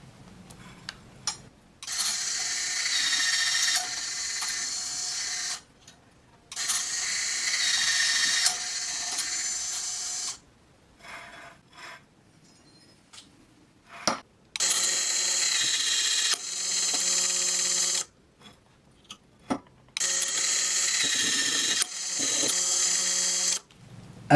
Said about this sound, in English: the KATO articulating torque arm, equipped with a KFS20 brushless electric driver, which allows installing tangless inserts quick and easy